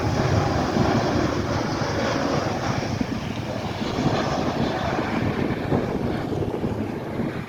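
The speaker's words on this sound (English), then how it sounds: "United 1037 737 MAX 9 inbound from Cancun." United Boeing 737 MAX 9 inbound from Cancun, heard as a loud, steady roar of jet engines with wind noise over the microphone, continuous and fairly close.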